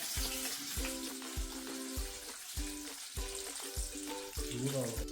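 Field bean (avarebele) mixture ingredients fry in hot oil on a gas stove, a steady close sizzle running throughout beneath rhythmic background music.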